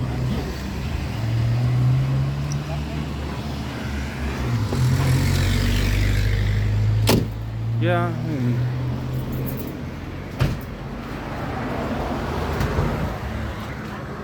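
Cars pass along a street in a few rising and fading engine swells, with traffic noise underneath while a person speaks briefly nearby.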